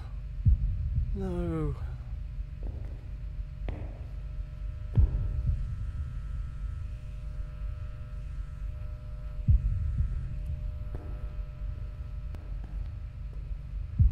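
Thudding heartbeat in a horror video game, a few sharp low beats spaced irregularly under a steady dark hum, with a brief rising tonal sweep early on.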